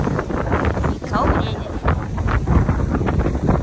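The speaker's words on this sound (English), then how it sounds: "the wind is" Outdoor wind buffets the microphone in gusty, uneven rumbling bursts that swell and fade, loud and close, with a voice faintly present beneath.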